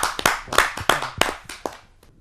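A small audience at a Hindi kavi sammelan claps to welcome a poet, giving a few loud, irregular bursts of hand claps that thin out and fade over about two seconds.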